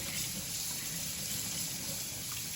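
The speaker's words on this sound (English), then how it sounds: "start off by rinsing them out here with some cold water." Cold tap water runs steadily in a sink as skin-on pork pieces are rinsed, a continuous soft splashing hiss close by with no talk.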